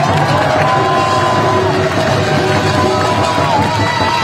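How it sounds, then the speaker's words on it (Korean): At a political rally for Kim Moon-soo at Daegu's Seomun Market, a large crowd claps and cheers loudly and continuously, the roar dense and unbroken with mixed voices shouting within it. "박수 좀 많이 보내주세요"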